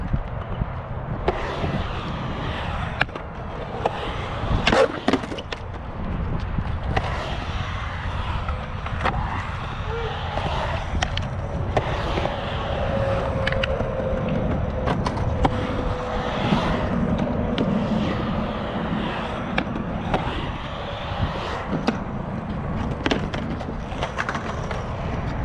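Skateboard wheels roll and clack through a mini bowl found as a full pipe in Beaver, Utah, with scattered sharp knocks from coping and transitions over a constant rumbling ride.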